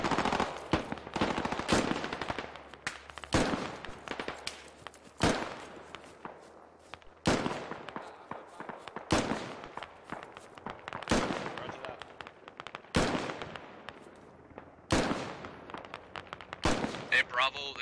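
Repeated bursts of automatic gunfire in the tactical shooter game Squad, loud sharp volleys recurring every second or two for the whole stretch, with quiet gaps between them.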